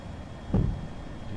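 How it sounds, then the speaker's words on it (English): Landing gear extends on an FSLabs A320 in a flight simulator, a single dull low thump midway through over a steady cockpit hum. "Gears coming down."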